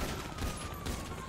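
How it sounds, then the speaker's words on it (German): Gunfire in GTA Online, a rapid fusillade of shots against a car that then explodes, heard as a dense, steady burst filling the whole short stretch without speech. "Der hat zweimal auf mein Auto geschossen und dann ist es explodiert."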